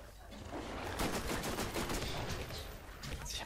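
Rapid gunfire from a Borderlands shooter game, a dense burst of repeated shots running steadily for several seconds at close range with no talk over it.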